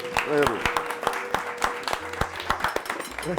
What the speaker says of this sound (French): Moi, je propose qu'on applaudisse. Moi, j'ai envie d'applaudir.